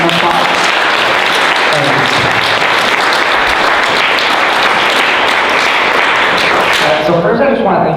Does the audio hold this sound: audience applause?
yes